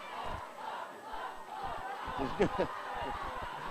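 Crowd at a women's rugby league World Cup match between Australia and Great Britain calls out and shouts, rising into a loud burst of voices midway, with scattered chatter and nearby talk throughout.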